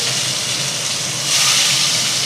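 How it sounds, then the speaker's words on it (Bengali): Hilsa fish pieces going into hot mustard oil in a pan on a gas stove, giving a steady broadband sizzle that swells louder partway through, with no talking. "এই যে তেলে মাছ দিয়ে দিচ্ছি"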